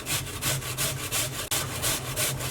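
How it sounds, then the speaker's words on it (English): Cooled potatoes grated on the coarse side of a box grater, close rhythmic rasping strokes about five per second, with one brief break midway. "all we're going to do is grate these."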